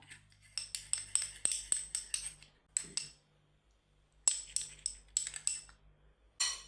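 A spoon stirs honey into a homemade facial pack in a bowl, giving close, quiet bursts of bright, rapid clinks separated by short pauses.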